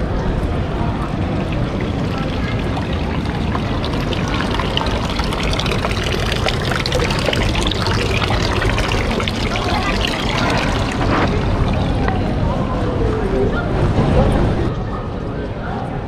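A public drinking-water fountain in Belgrade, Serbia splashes steadily, a continuous broadband wash with faint voices and outdoor bustle mixed underneath.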